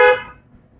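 A single short car horn honk sounds loudly and close during a driving lesson, then fades quickly into quiet road noise.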